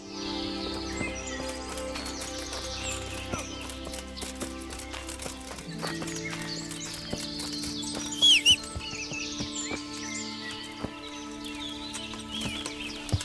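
Horse hooves clip-clop steadily in Kingdom Come: Deliverance, with faint neighs and a soft musical backdrop, the hoofbeats moderately close and fairly quiet.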